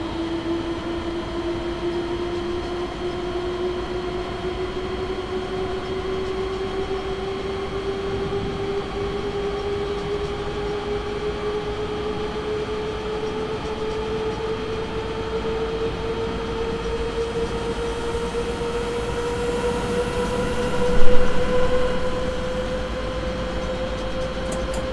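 Train accelerating in Train Simulator 2018: a steady engine whine climbs slowly in pitch over a constant rumble of running gear, with a brief louder bump near the end and no talking.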